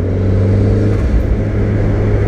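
A turbocharged 2017 Fiat 124 Spider sports car engine revs loudly up close, a deep throaty roar with steady rumbling that swells and holds.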